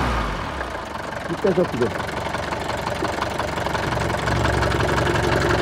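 A 1976 Mercedes 240D diesel engine idles steadily close by with a low, rough knocking throb, while people talk over it.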